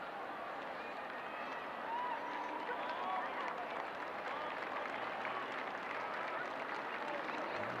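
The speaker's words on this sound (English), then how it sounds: "she gets applause from the home fans" Home fans at an NWSL women's soccer match between OL Reign and Washington Spirit applaud as injured player Ashley Hatch gets back up; the applause is a faint, steady wash of distant stadium clapping across the whole stretch.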